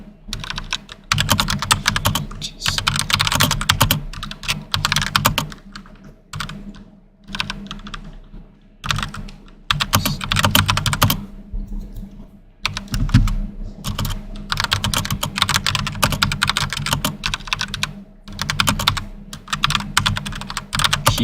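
Rapid typing on a computer keyboard, dense clattering keystrokes in continuous bursts with short pauses, loud and close, no talk over it.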